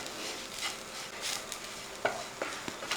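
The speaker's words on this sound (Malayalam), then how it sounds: "ഇനി ഈ തേങ്ങാപ്പീരയും കൂടെ കൂട്ടി ഒന്ന് ഇളക്കി." Grated coconut is stirred into fish in a pan: quiet scraping and stirring strokes over a faint sizzle, with a few sharper clinks of the spoon against the pan near the end.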